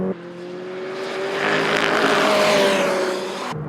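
A McLaren 600LT on track at the Hungaroring, its engine note loud and close, climbing steadily in pitch under acceleration as one continuous pull with no talking.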